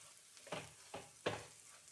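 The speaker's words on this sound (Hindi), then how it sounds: "शिमला मिर्च को भी सॉटे कर लेंगे।" Capsicum sautéing in a pan with a pinch of salt: a quiet, steady sizzle broken by three soft stirring strokes, close and faint.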